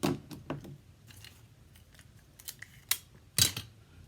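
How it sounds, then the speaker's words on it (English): Scissors snip around a Crafters' Companion template on paper, a series of crisp, close cuts and clicks at an uneven pace, some sharper and louder than others, with no talking. "you have to cut everything by hand, and I'm absolutely horrible with a pair of scissors"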